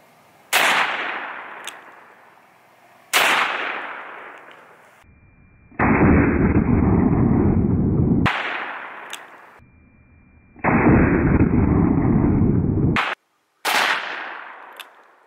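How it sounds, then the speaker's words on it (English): Loud, close 44 Magnum shots with 240-grain jacketed hollow points are fired into a hay bale outdoors, two sharp reports each trailing a long echo, between stretches of steady broadband noise. "How about some 44 Magnum, 240 grain jacketed hollow points?"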